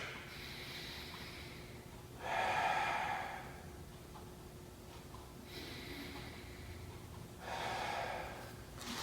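Slow, deep breaths from someone holding a low squat, two long audible inhales or exhales separated by quiet stretches, close and soft, with no speech.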